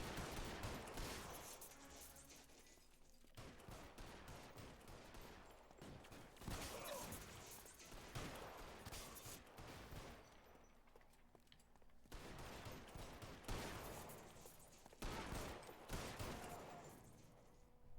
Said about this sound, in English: I'm shooting him. You see that? I hit him.